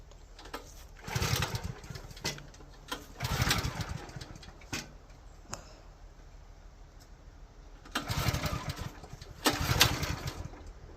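A post hole digger's small engine being pull-started outdoors, with bursts of sputtering engine noise in several distinct attempts separated by quieter gaps.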